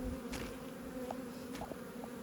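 A honeybee swarm gathered near a hive fills the air with a steady, close, continuous buzz, with a few individual bees flicking past and no voices.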